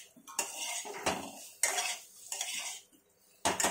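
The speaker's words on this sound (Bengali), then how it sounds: "আলুগুলো একটু নাড়াচাড়া করে নেবো।" Boiled potatoes being stirred in a pan for a fish curry, a series of about five distinct scraping clinks of a utensil against the metal pan with short pauses between, close and clear without talk.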